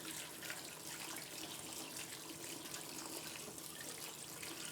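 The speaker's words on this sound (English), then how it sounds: "when I rinse, I use water that I have a filtering system for my cold water" Cold filtered tap water runs steadily into a sink while quinoa is rinsed, a continuous broad hiss and splash with no talk over it.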